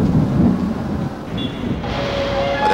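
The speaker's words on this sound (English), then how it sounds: "Late at night, they turn into lightning, thunderstorms." A late-night thunderstorm during a typhoon in Manila gives a loud, steady, rolling rumble mixed with dense rain-like hiss, continuous across the whole moment with no voices.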